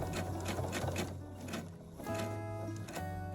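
A domestic sewing machine stitches a quilt near its corner, a steady close hum with rapid needle patter that drops out briefly midway and then resumes.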